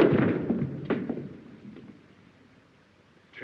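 Several sharp gunshot bursts from a 1933 film crack out close together near the start, then fade into a quieter stretch before another blast right at the end, all with an old, boxy soundtrack tone.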